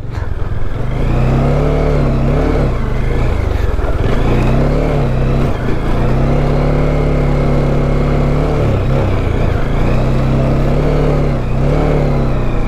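A motorcycle engine labors at steady high revs throughout, climbing a hill carrying a heavy passenger, droning loudly and close with slight pitch wobbles as it strains under load.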